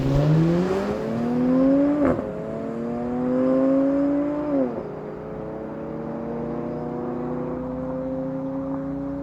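Engines roar past at a no-prep drag strip, a 4.4-liter V8 BMW racing a V6 Challenger, revving up through rising gear pulls, shifting, then fading into a steady drone.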